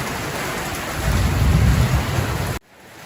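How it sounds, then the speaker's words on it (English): A summer thunderstorm in Australia on a 40-degree December afternoon: steady, dense rain hisses close by while deep thunder rumbles and swells through the middle, then the sound cuts off abruptly near the end. "Thunderstorm, lightning, and it's only 4 o'clock in the afternoon."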